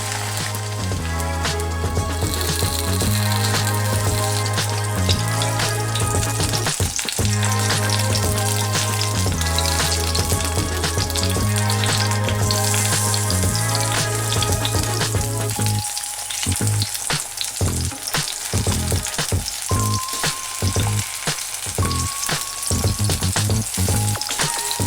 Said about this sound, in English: Add the sliced tomato and cook over medium heat a few minutes per side.